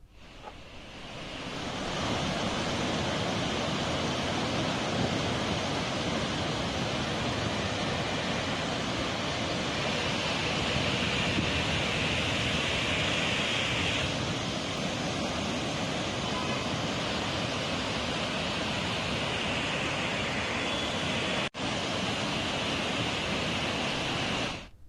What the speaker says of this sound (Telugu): వరద హోరు పెరిగింది